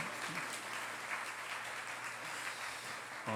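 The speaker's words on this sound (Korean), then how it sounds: "따뜻한 박수로 맞이해 주시면 감사하겠습니다" A church congregation at a Sunday service gives warm applause to welcome the pastor's family, a soft, even patter of many hands continuing throughout at a distance.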